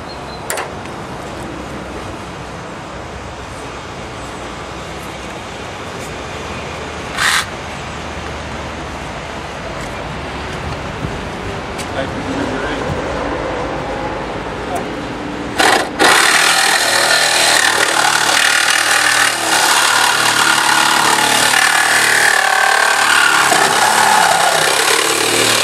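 A saw fitted with a Lenox 10–14 TPI variable tooth blade cuts through a car's A-post during vehicle extrication training, grinding continuously and growing louder and harsher partway through.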